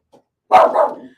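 One loud, close dog bark, short and sharp, preceded by a faint brief yip, with no talk.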